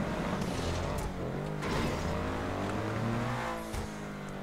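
A 4x4 off-road vehicle driven in GTA 5, its engine droning and shifting pitch as it revs and accelerates, loud and continuous with a brief dip near the end.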